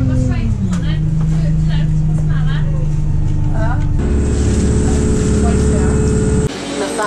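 Bus ride heard from inside, a steady low engine drone and road rumble with a shift in tone partway through, while someone talks over it throughout.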